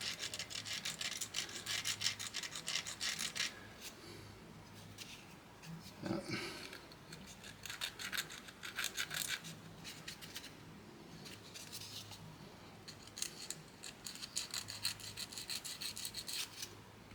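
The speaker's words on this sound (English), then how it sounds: "don't sand it that way because you'll bend it all" Sandpaper sands a part of a 1/16 scale M4A1 medium tank model kit, making close, rhythmic back-and-forth rasping strokes in steady runs with brief pauses. A voice is faintly heard at times.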